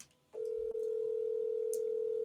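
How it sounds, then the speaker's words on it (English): A telephone ring tone on a live call: one steady, loud tone holds unbroken for about two seconds after a short silent start. "You get to hear the phone ring."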